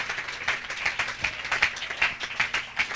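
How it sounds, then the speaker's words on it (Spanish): A church congregation claps in a quick, uneven burst, many hands beating fairly near with a bright, rhythmic patter for a few seconds. "Aplauda al Señor, por favor"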